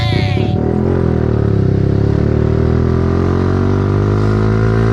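A Yamaha Xabre motorcycle being ridden, its engine loud and close, with a brief rev at the start before it settles into a steady, droning pitch that slowly drifts. No one speaks.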